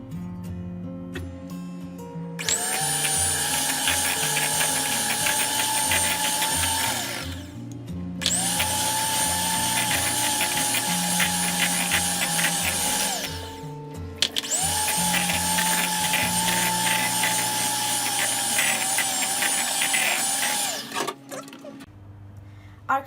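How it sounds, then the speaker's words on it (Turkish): An electric mixer whirs in three long steady bursts with brief pauses between, beating eggs one at a time into cooled profiterole choux dough. "Şimdi yumurtalarımızı tek tek ekleyerek çırpacağız."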